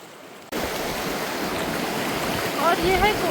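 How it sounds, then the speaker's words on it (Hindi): Kosi river water in Guldaar Valley near Ranikhet rushes steadily after heavy overnight rain, a broad continuous hiss close by that swells slightly toward the end, with a few birds chirping over it. "और ये है कोसी नदी"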